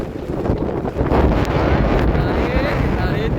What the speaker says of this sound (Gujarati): જોઈએ અહીંયા પવન